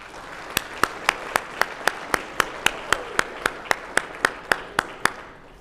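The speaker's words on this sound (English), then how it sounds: "let's all give them a round of applause" Slow, evenly spaced hand claps at a university lecture, each sharp clap distinct and close, about two per second, thinning out at the end rather than a full crowd roar.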